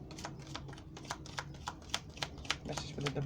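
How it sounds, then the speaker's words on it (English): A deck of cards is shuffled up close in a quick series of crisp riffling flicks, with a steady low hum underneath and speech nearby. "I'm going to give it one more shuffle."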